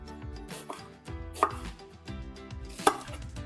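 A knife chops onion on a board in a few sharp, separated strikes with a low thud under each, clear and close, with no voices.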